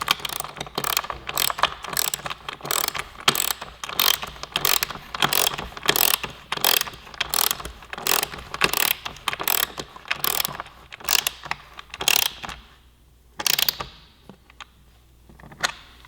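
A hand ratchet tightening fasteners on a 2017 Yamaha R6 sportbike during a tie-down support install, with a long run of quick, evenly spaced close clicks that slows, pauses and ends in a few last clicks.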